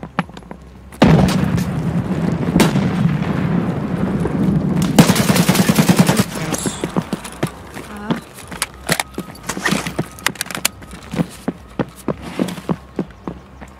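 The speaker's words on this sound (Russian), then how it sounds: "кидай гранату" Grenade blast and automatic rifle fire in the shooter game Escape from Tarkov, a loud sustained burst of explosion and gunfire followed by rapid rhythmic shots and footstep-like clatter, with a voice talking over it.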